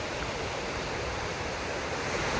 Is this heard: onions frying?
no